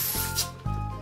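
Air hisses briefly out of a stretched pink latex balloon as it is squeezed while folding a balloon flower, a short soft rush between rubbery squeaks and handling sounds.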